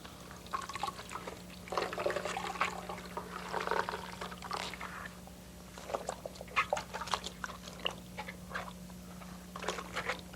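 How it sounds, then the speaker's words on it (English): Dyed, chained warp yarn rinsed repeatedly in water, with intermittent sloshing, squeezing and splashing bursts over a steady low hum, close and moderately loud, with pauses between handlings. "go ahead and rinse it several times until the water comes clear"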